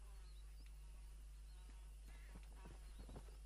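Faint hooves clop in a quickening rhythm as a horse in Red Dead Redemption approaches over a constant low hum, with a soft whinny-like sound.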